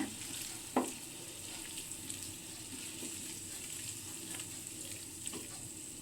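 A tofu and capsicum gravy is stirred in a pan under a soft, even simmering hiss, with one distinct utensil scrape early on and a few fainter clinks after.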